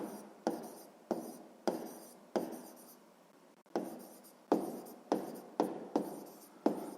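Pen or pencil writing on paper for a math exercise, a run of about a dozen distinct strokes and taps in an uneven rhythm, close and alone.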